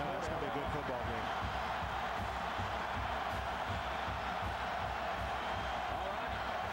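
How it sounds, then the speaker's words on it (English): Large football stadium crowd at a Tennessee vs Georgia college game, a steady dense roar filling the whole clip with no breaks, under what sounds like murmured broadcast talk. "Crowd making some noise."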